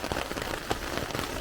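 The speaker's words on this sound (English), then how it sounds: "And here it comes, harder rain." Heavy rain drums on a tent during a mountain thunderstorm in Greece, a dense, close patter of irregular drops with occasional sharper hits, steady and fairly soft throughout.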